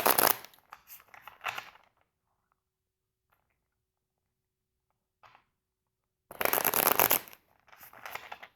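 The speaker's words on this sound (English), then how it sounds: "I'm actually going to shuffle." A deck of tarot cards is riffled and shuffled close up on a table, crisp flurries of card noise split by a long quiet pause, then another burst and lighter shuffles.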